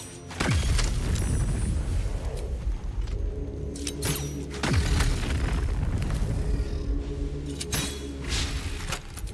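Volatile blood detonating in Baldur's Gate 3 produces heavy, deep booms, about three blasts spread across the stretch, each with a rumbling tail and clattering debris over a continuous low game ambience.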